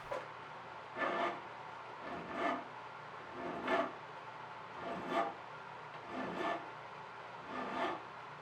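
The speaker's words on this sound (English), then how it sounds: "Now it's back to a combination of filing and sanding." Steady rhythmic rasping strokes of files and sandpaper on a metal knife blade, about one stroke every second and a bit, close and moderately quiet.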